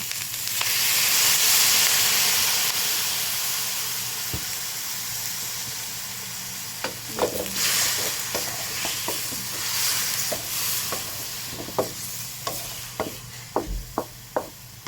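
Chicken feet sizzling in a pan after soy sauce goes in, a steady loud hiss of frying with steam, joined later by repeated sharp stirring clinks and scrapes at an irregular rhythm, no talking.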